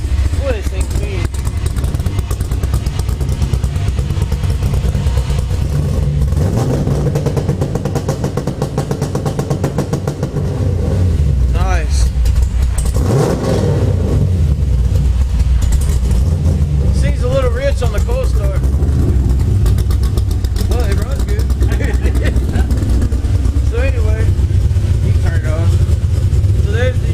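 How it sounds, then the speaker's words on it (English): A Nissan 240sx engine on two-step launch control, loud and close, running steadily with repeated rev bursts and popping held against the limiter, while people talk over it. "Two-step works. Try that two-step out"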